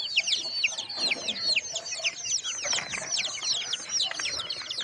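Baby chicks kept in a cardboard carton cheep constantly in rapid, high, overlapping peeps, close and steady for the whole stretch, as though chilled in the evening.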